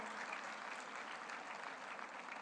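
Applause from the audience at a hospital convocation ceremony honoring students after a performance: a steady, dense wash of many hands clapping, moderately distant and continuous without talk.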